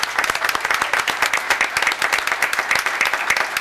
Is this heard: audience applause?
yes